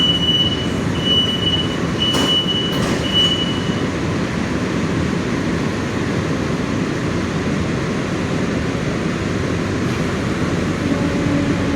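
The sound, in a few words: air-conditioned EMU suburban train running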